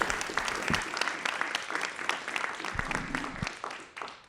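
Steady applause from a crowd, dense clapping throughout with a few louder claps standing out, no voices on top.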